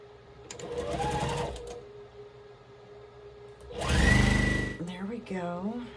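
A sewing machine stitches a quilt block in two short bursts of rapid whirring, the second louder and closer, with a steady electrical hum between them and someone talking briefly at the end.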